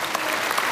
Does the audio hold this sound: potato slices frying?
no